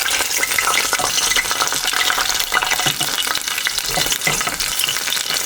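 Pumpkin flower fritters fry in hot oil with a loud, dense, crackling sizzle that stays close and unbroken for several seconds, with no talking.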